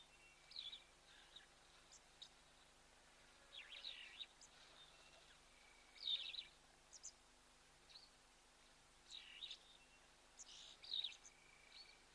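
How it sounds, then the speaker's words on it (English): Starlings and red-billed oxpeckers call at a waterhole, with short, high chirps in scattered bursts every couple of seconds. The calls are faint and distant over a quiet outdoor background. "So you can hear those starlings. You can also hear the red-billed oxpeckers"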